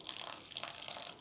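Water trickles softly into a cooking mixture for buta bara, a faint, brief splashing pour heard up close.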